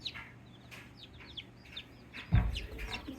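Baby chicks peep in their new home, giving soft, high chirps scattered through the moment with a brief thump near the end.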